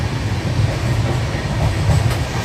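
The 12102 Gyaneshwari Express passenger train rolls steadily along the rails from Kolkata to Mumbai, past Akola Junction, with a deep, continuous rumble and a faint rhythmic clatter, close and loud, with no voices.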